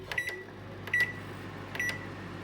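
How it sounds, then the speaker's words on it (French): A microwave oven heating porridge for one minute gives a faint steady hum, with a few short beeps or clicks at the start and about one and two seconds in. "on va mettre ça au micro-ondes et on va mettre en cuisson 1 minute"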